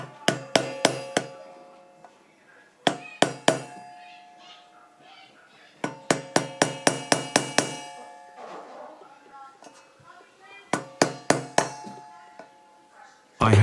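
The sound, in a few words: hammer tapping screwdriver on metal clip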